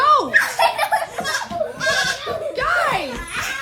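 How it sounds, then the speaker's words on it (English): A goat bleats repeatedly from a couch in a farmhouse setting, its wavering calls loud and close amid excited voices and laughter. "Turn your back for 1 second and there's a goat on the couch."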